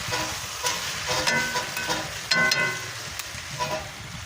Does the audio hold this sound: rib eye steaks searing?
yes